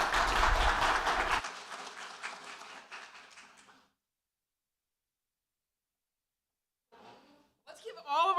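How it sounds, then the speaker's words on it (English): An audience at a youth contest event claps loudly in a dense burst that quickly thins and fades to silence, followed later by a voice speaking briefly. "Let's give all of our contestants another round of applause."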